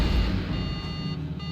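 Electronic beeping from the video game Knights of the Old Republic, a steady stack of tonal harmonics that keeps sounding across the moment at moderate loudness with no talk over it.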